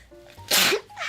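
A single sharp human sneeze, close and loud, with a brief intake before the burst and a softer trailing exhale.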